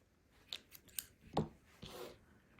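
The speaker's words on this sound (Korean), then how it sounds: "묶어서 마무리할 정도로 남겨놓고 잘라주세요." Scissors snip crochet yarn while finishing an amigurumi cat doll, a few quiet, close, crisp cuts in sparse succession in an otherwise hushed room.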